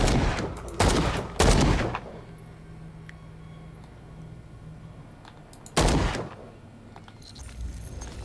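Gunfire in the video game Call of Cthulhu, several loud, sharp shots in separate bursts with quieter ambient rumble and clatter between them, no talk.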